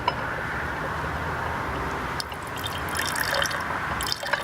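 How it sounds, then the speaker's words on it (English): Hydrogen peroxide poured into a container for an elephant toothpaste experiment, a steady soft trickle of liquid running close up with a faint splash and clink near the end. "pour a little bit of hydrogen peroxide in it."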